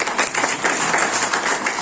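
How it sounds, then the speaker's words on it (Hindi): Audience clapping steadily at a monthly review meeting of a district teacher-training institute, a dense, even patter of many hands that continues from start to finish with no voices over it. "तो बहुत ही राजीव के लिए एक बार ताली बजा दी"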